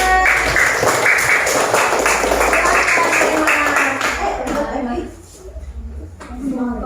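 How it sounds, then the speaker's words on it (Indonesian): Classroom applause from students for a classmate, a dense patter of clapping for about four seconds that fades out, followed by children's voices and a teacher speaking. "beri tepuk tangan buat Aiman"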